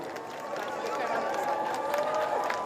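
Delighted crowds greeting the royals Harry and Meghan cheer and shout in a dense, excited roar, a continuous busy swell of voices with bits of clapping.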